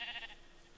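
A sheep in the Minecraft video game gives one short, nasal bleat, heard close and clear, then fading into a quiet background hum.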